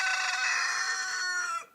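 A rooster crows once in a long, loud, harmonic call that holds for over a second and a half before cutting off, recorded close at a French hen-breeding yard where the bird is the son of a known cock and a white Sussex hen.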